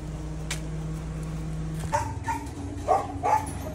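A pet dog outdoors gives a few short barks and yips partway through, moderately near, over a steady background hum.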